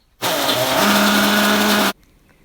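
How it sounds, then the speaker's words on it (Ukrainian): Electric blender grinding dried mushrooms into spice powder, a loud whirring motor burst of under two seconds that starts and stops sharply, with the pitch settling into a steady whine. "Наші грибочки висипаємо у блендер і будемо їх перебивати."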